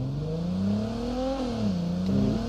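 A car engine in a video game revs up and down, its pitch climbing, dropping and climbing again in steady, continuous surges with no voices over it.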